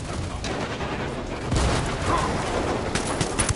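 Gunfire in the tactical shooter Ghost Recon, a steady crackle of shots with a louder burst partway through and more rapid reports near the end, heard amid continuous game noise.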